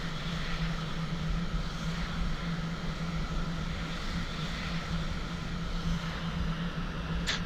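Steady jet engine drone of an aircraft taxiing in the flight simulator Falcon 4 Allied Force, a constant even roar with a faint tonal hum and no talk.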